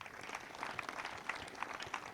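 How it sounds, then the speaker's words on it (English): Audience at a high school alumni day gathering applauds, a steady wash of scattered hand claps held at moderate distance for the whole stretch, with no speech over it. "Can we clap for ourselves?"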